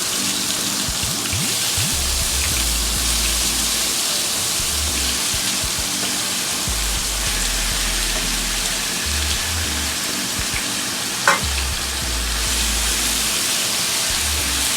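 Shrimp frying with garlic in a pan, giving a steady, fairly quiet hiss and crackle that carries on throughout, with a few soft low bumps and one brief sharp click near the end.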